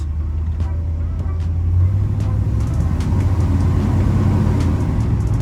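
A car engine fitted with a Holley 1850 carburetor idles steadily, a close, loud, even low rumble throughout with faint ticking on top.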